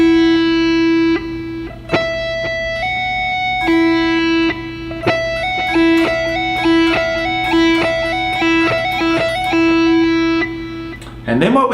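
Electric rock guitar playing an open-string lick in E natural minor, a loud, clear run of picked notes stepping up and down in a repeating three-note pattern, with no talking.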